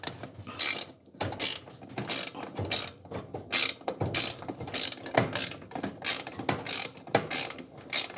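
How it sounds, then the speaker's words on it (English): Ratchet spanner clicking as it tightens a 13mm nut on an Electrolux/Simpson/Westinghouse clothes dryer, a rapid series of close, loud ratcheting bursts in a steady back-and-forth rhythm with short pauses between strokes. "I don't know what they're called, ratchet somethings, ratchet spanners."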